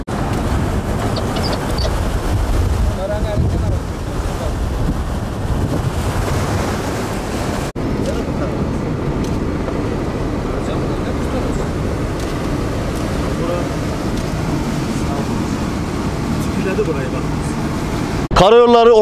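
Strong, roaring blizzard wind buffets steadily against a highway department vehicle, gusting and hissing throughout, with a brief sharp rattle near the end.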